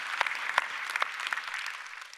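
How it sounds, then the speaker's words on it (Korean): Applause from a congregation at a Friday Holy Spirit service in a Korean church, a short run of scattered claps with a few sharper hand strikes standing out from a soft, fairly thin patter. "은혜 주신 하나님께 박수로 감사합니다."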